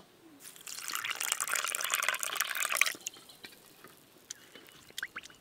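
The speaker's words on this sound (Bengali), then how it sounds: "প্রথমে সুজি জল দিয়ে ভিজিয়ে নেব।" Water is poured onto semolina for bhatura dough, a steady trickling stream lasting about two and a half seconds and then stopping, followed by a few faint drips and small taps.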